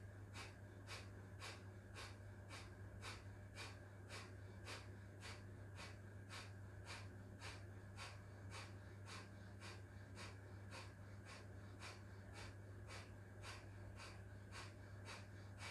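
Rapid, rhythmic breath-of-fire exhalations during a morning energizing breathing exercise, roughly two sharp nasal puffs per second, steady and close over a low background hum, with no talking.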